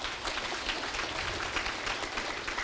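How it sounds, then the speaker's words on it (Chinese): An audience claps after a lecture on national budgeting, a faint, steady patter of many hands that carries on evenly for a few seconds with no voices over it. "我们再一次的热烈掌声"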